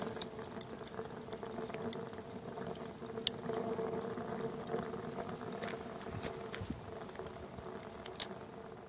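A rocket stove burns with a steady, low roar, fairly faint and constant, with occasional sharp crackles and pops scattered throughout.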